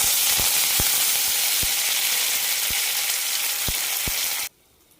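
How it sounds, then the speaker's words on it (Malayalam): Mustard seeds crackling in about three tablespoons of hot oil, with curry leaves going in, for a colocasia masala fry. A loud, dense sizzle is punctuated by sharp, irregular pops, then it cuts off abruptly near the end. "കടുക് പൊട്ടിക്കഴിഞ്ഞാൽ കറിവേപ്പില ഇട്ട് കൊടുക്കാം"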